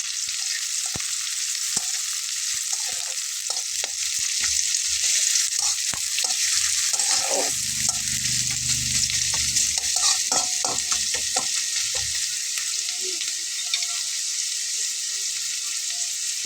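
Chopped onion frying in a pan with whole cinnamon, cardamom and cloves for an egg dish, a steady close sizzle broken by clinks and scrapes of a spoon stirring, with no talking.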